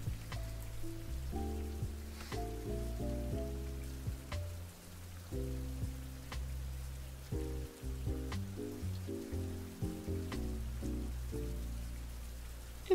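Steady rain patters softly through the demo of the video game We Took That Trip, layered under a calm tonal music bed with repeated chords and occasional light percussive ticks.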